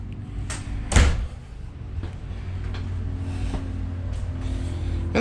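A door on a 2016 Keystone Hornet Hideout 38FKTS destination camper opens with a sharp latch clack near the start, followed by softer thuds and faint rustling against a low steady hum.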